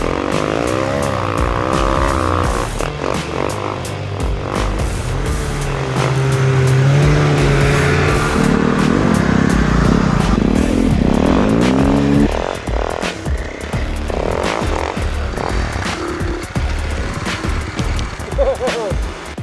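A motorcycle fitted with a sand tire riding across a frozen, snowy lake, its engine revving and droning loudly with rising and falling pitch throughout, close up.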